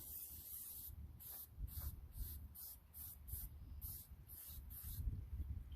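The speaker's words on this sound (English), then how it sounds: "spray it on there just like you're painting it" Repeated short bursts of aerosol spray hiss as oil is sprayed onto a Dodge Challenger's air filter, about a dozen quick pulses in a steady rhythm, close and fairly loud.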